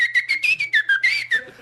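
A person whistles a bright, wavering tune as an imitated part of a comedic bit, with quick rising and falling phrases that carry loud and close for under two seconds, and the last notes trail off softly into faint background murmur.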